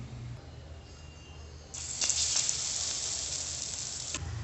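An egg-dipped bread slice laid into white oil on a hot griddle, a quiet hiss that jumps into a loud, steady sizzle when the bread hits the pan and continues evenly.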